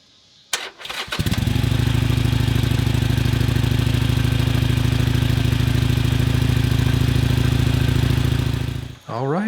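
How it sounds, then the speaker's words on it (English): A 2016 Harley Davidson Sportster Iron 883 with a new battery cranks briefly, fires up and settles into a loud, steady, lumpy idle that runs close and unbroken for several seconds before a short dip. "I'm ready to actually start the bike and see how it responds."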